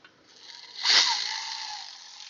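A hand ratchet drives bolts in with a quick burst of close, buzzy clicking that swells and then trails off into a lighter whirring spin.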